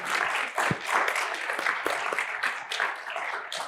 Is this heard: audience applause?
yes